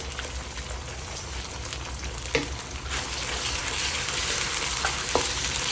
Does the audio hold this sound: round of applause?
no